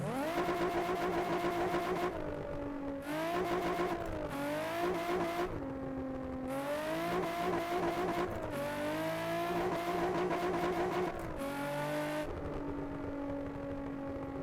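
A Nissan 350Z engine in the Assetto Corsa driving game revs up and drops repeatedly through gear changes on a traffic server, droning steadily and loudly with no talk over it.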